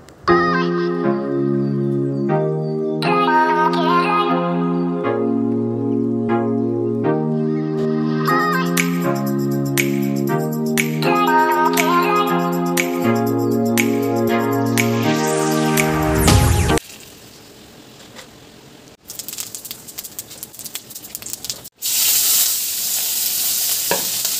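A tonal melody with steady notes plays for most of the stretch, then gives way to a loud broadband sizzle of taro-leaf greens cooking in a pan as they are stirred, cut by brief gaps.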